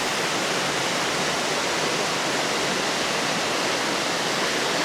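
A river rushes through a forest beside a stair crossing the water, a loud steady broadband roar that stays even and unbroken throughout with no voices.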